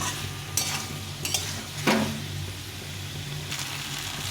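Large tomato pieces frying in a pan with potato and cauliflower, a steady sizzle with a few sharp stirring scrapes and utensil knocks, close up and without speech.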